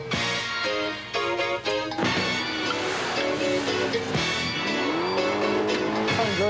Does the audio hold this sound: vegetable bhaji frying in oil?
no